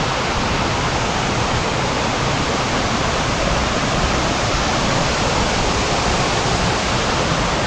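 A waterfall on a stream below a rainy tent campsite pours in a loud, steady broadband roar that holds unchanged throughout, with no voices.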